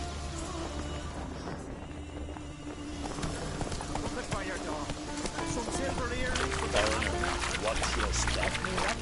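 Geralt's horse Roach galloping in The Witcher 3, rapid rhythmic hoofbeats pounding beneath loud overlapping voices and background game sound, steady and fairly close throughout.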